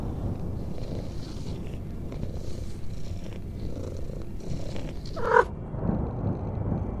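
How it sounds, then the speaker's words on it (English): A cat purrs steadily while being petted in a video game, a soft continuous rumble heard alone and close, ending with a brief higher mew-like sound near the end. "You can pet the cat."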